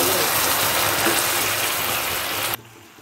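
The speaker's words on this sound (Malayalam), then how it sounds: "അതിനുശേഷം 1/2 ഗ്ലാസ് വെള്ളം ഒഴിക്കുക." Water poured into hot caramelized sugar in a pan, a loud rushing, bubbling gush lasting a few seconds before cutting off abruptly to a quieter simmer.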